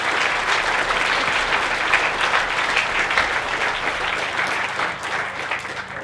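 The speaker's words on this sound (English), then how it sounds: "you guys should give yourselves a round of applause right now" A crowd at the Baja SAE Louisville off-road competition awards ceremony gives itself a round of applause, a broad, steady clapping that swells, holds, then gradually thins toward the end.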